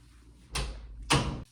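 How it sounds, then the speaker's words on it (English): Interior door on two self-closing spring hinges, heard as a swishing movement followed by a firmer thud as it shuts, close and with no talking. "we did put two spring hinges on this interior door so that it would close on its own"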